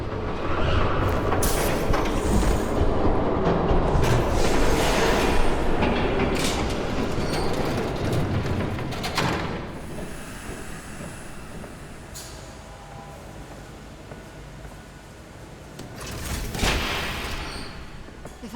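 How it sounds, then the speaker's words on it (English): A train rumbles past in the Batman: The Telltale Series video game, Episode 3, building to a loud, sustained roar with rail clatter and faint squeals before easing into a lower rumble. "There's a train coming."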